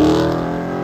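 Car engine revving loudly at a Supercar Saturdays meet as cars leave, a close, sustained harmonic engine drone lasting under a second with no talk.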